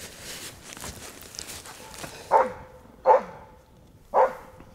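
A dog barks three times in the forest, sharp single woofs spaced about a second apart, with rustling movement and footsteps between them.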